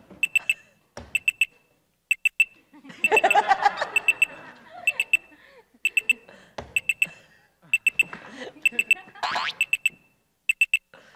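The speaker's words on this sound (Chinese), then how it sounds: "闹钟响啊！" A dumbbell-shaped alarm clock, marked 10 kg, rings with repeated bursts of sharp electronic beeps, mostly in quick triplets, loud and close. A voice briefly talks and chuckles partway through.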